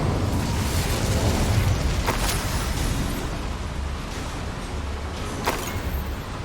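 Incendio fire spell in Hogwarts Legacy, a sustained roaring, rumbling blast of flame with a dense, steady body and a couple of sharp crackling pops, loud and continuous throughout.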